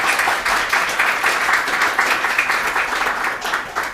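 Audience clapping at a World IA Day information architecture event, a smaller crowd applauding with a pulsing, uneven rhythm at moderate loudness that carries on steadily to the end.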